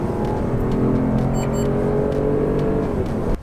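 A Citroen C3 Aircross with an automatic gearbox accelerates hard from low speed, its engine note climbing steadily and loud, with a subtle shift change partway before it cuts off at the end.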